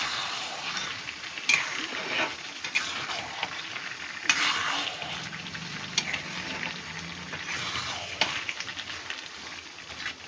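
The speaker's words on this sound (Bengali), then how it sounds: "আদা জিরে বাটাটাও ভালো করে মিশিয়ে দিচ্ছি।" A spatula stirs ginger-cumin paste through a fish-roe curry frying in plenty of oil, with steady sizzling and scraping strokes in a pan and a few sharper clanks of the utensil, close and without talk.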